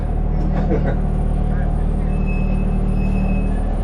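Road traffic heard from aboard a duck tour bus in Branson, Missouri: a continuous loud engine rumble and passing vehicles, with a person talking over it.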